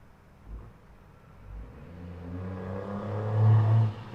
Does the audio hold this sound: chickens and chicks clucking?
no